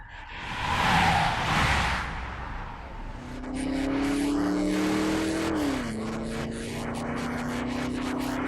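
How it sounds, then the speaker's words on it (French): Unmarked cars speed through empty city streets at four in the morning, a rising engine roar and whoosh of passing traffic followed by a steady sustained drone as the vehicles hold speed. "2 voitures banalisées filent dans les rues désertes."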